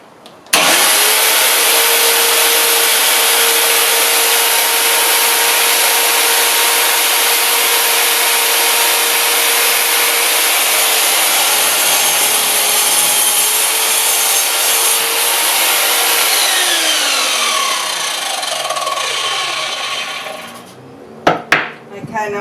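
A loud power saw whines steadily as it cuts through wood for about twenty seconds, the pitch shifting near the end before the blade spins down.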